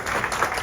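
Audience applause at a film festival screening as the cast and crew of the horror film Hellraiser come down to the stage; a short, steady burst of clapping from a crowd.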